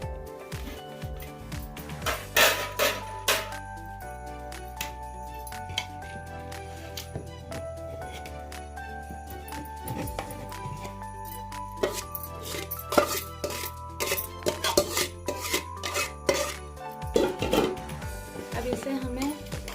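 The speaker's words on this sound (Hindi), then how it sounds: "अब इस चिकन में हमें राइस ऐड करना है।" Rice is added to chicken in a pot for South Indian chicken dum biryani, with repeated clinks and scrapes of a spoon against the pot and sporadic knocks, while a person talks over it.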